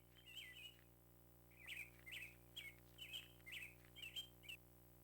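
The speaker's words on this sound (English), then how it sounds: "There's just birds, and that's the only sound." Birds chirp in the video game My Boyfriend - Summer of My Life, a faint series of quick, bright tweets repeating in a steady rhythm over a low, constant background hum.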